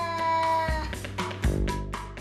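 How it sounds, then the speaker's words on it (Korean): A cat warning off a stranger with a drawn-out, menacing vocalization, harmonic growling yowls that rise and swell in a few close, loud bursts over about two seconds, with no talking. "낯선 사람이 오면 무시무시한 소리로 경고하는 지웅이."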